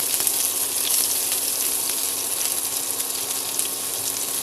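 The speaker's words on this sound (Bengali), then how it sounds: "এবার আমি গরম তেলে দিয়ে দিচ্ছি" Chopped onion dropped into hot oil and ghee in a pan, a steady dense sizzle with bright hiss and faint crackles throughout, close and constant.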